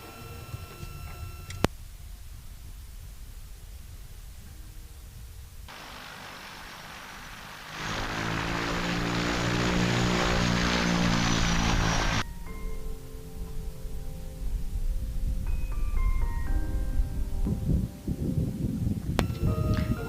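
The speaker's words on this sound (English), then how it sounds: "the twin otter can land as long as it has flat land" A Twin Otter propeller airplane landing on flat, unpaved Arctic ground produces a broad, sustained engine roar that swells in the middle and stays loud, with wind-like rushing and steady background noise before and after.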